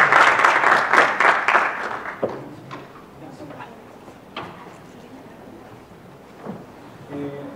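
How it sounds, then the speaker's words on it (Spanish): An audience applauds the panelists at a debate on the Chilean health system: a brief burst of clapping that fades within about two seconds into a quiet hall with scattered knocks and shuffles. "Un aplauso para todos."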